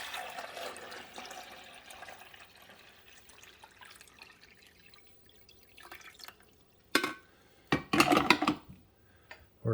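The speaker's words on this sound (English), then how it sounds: "This is just fresh water. It's been cleaned. I've got that cleaned. We're just going to pour it in the back here." Fresh water poured into the back reservoir of a Mr Coffee 12-cup coffee maker gives a soft, hissing trickle that fades out, then a few sharp plastic clatters and knocks from the machine near the end.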